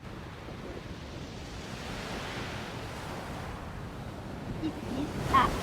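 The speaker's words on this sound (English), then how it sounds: "Ocean or sea." Broadband ocean surf on a sea shore, a steady wash of waves with a slight swell and louder surge near the end, heard alone without talk.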